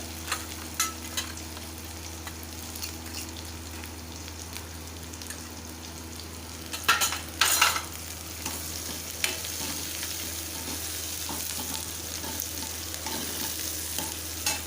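Spices with turmeric and homemade onion-garlic chilli powder roast in a pan, a steady close sizzle under repeated stirring and scraping, with a brief louder clatter midway and no talk.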